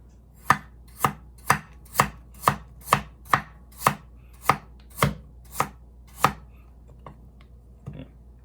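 A cheap chef's knife, sold as VG10 steel, chops food on a board in about a dozen sharp, evenly spaced strokes, loud and close, then a few fainter taps trail off.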